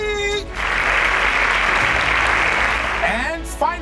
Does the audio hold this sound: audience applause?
yes